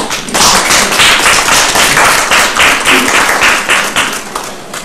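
Sustained audience applause at an art exhibition opening, a dense wash of many hands clapping steadily and loudly throughout, with faint talk beneath.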